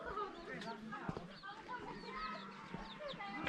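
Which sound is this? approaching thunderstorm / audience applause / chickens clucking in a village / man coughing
chickens clucking in a village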